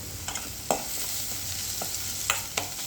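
Onions sautéing in a pan for a mushroom and peanut gravy give a steady, quiet sizzle, with a few sharp clinks as a spoon stirs them. No one talks.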